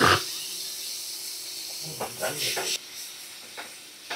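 Chopped small tomato dropped into a pan of fried onions for an egg dish, giving a steady hiss of sizzling oil throughout, with brief stirring clatters and a voice speaking faintly over it.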